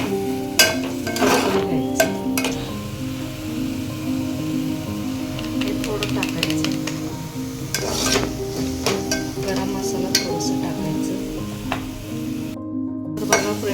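A masala mixture of red and black spice and coriander powder fries in oil in a pan, a constant sizzle punctuated by regular scraping and stirring clinks while someone talks.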